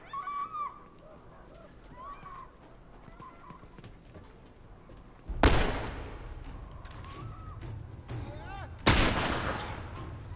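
Two loud, sharp rifle shots ring out in The Last of Us, about three seconds apart, each followed by a lingering echo over quieter game ambience.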